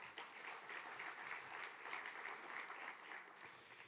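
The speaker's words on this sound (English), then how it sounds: "On peut les applaudir également." Audience applause for the ministers at an international conference in Paris, steady, even clapping from a large room, heard quietly and at a distance throughout.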